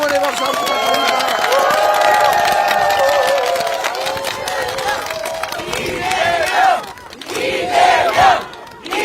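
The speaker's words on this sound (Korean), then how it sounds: "우리 응원의 박수 한번 부탁드립니다." A large outdoor political rally crowd cheers and shouts in a sustained loud roar mixed with clapping, swelling and dipping near the end.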